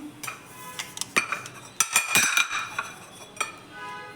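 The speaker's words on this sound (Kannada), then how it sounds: "ಮಸಾಲೆ ಮಾಡೋಕ್ಕೆ ಒಂದು ಚಿಕ್ಕದು ಕಡಾಯಿ ಇಟ್ಕೊತಾ ಇದ್ದೀನಿ" Small metal kadai set down and handled on the stove for cooking masala, giving a series of close clinks and clanks at irregular intervals.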